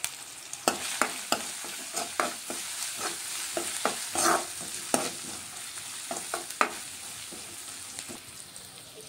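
Ginger, garlic and turmeric sizzle in a hot pan for a potato dish, with a steady frying hiss broken by repeated sharp scrapes and taps of a spoon stirring, close and fairly loud, no voices.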